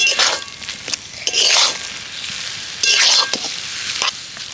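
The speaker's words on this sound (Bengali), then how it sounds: "আর ঠিক এই সময় আমি এর মধ্যে ধনে পাতা কুচিটাও দিয়ে দেব, দিয়ে এইভাবে নাড়তে থাকবো।" A spatula stirs fish chop filling of lote fish mixed with chopped coriander in a pan, a few broad scraping strokes over a faint dry sizzle, close up.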